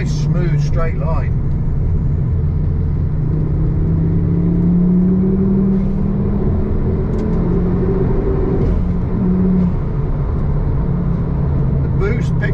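Ford Focus ST3 engine pulling through the gears, a steady droning rumble with rising and falling pitch sweeps as it accelerates and shifts, heard from inside the car with talk over it.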